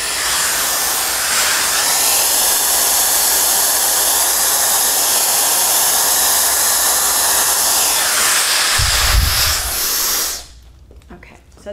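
A hair dryer blowing steadily on almost-dry hair, a loud close whoosh that runs unbroken for about ten seconds before switching off, leaving a quiet room with faint handling noise.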